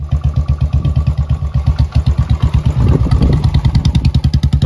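A Royal Enfield Bullet motorcycle runs close by with the deep, evenly spaced thump of its single-cylinder engine, loud and rhythmic, rising slightly as it revs mid-way, with no talking.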